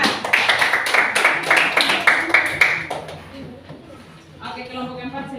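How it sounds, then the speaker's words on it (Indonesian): A classroom group claps for group 4. The quick, dense clapping lasts about three seconds and then dies away, and a voice speaks near the end. "beri tepuk tangan untuk kelompok 4"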